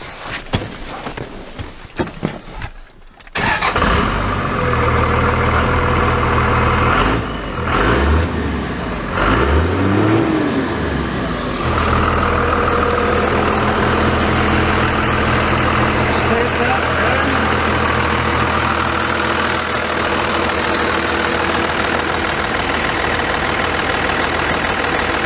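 A Ford Ranger with a swapped-in Cummins engine cruises at highway speed, giving a steady low diesel drone with road and wind roar. Some thumps and a few rising and falling engine swells come early, then the hum settles into a continuous run.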